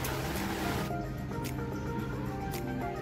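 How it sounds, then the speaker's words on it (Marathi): Heavy rain falls outside a parked aircraft's window on a rainy-season day before a first flight, a steady dense wash of water with a few brief louder splashes, close and continuous, with no talking. "पाऊस पडतोय आणि विंडोवरती पण पाणी पडलंय."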